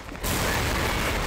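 Enemy gunfire in Medal of Honor: Vanguard starts after a brief quiet moment and becomes a sudden loud, sustained burst of noisy fire that lasts to the end.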